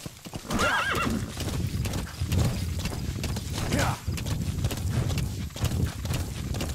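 In Metal Gear Solid V: The Phantom Pain, a horse gallops with quick, loud hoofbeats and lets out a shrill neigh near the start, and a second whinny follows, all heard up close.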